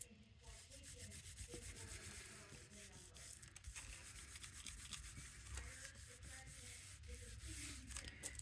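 Quiet, steady rubbing across a paper craft piece on a Valentine mixed media project, a soft continuous scratchy friction heard up close at low volume.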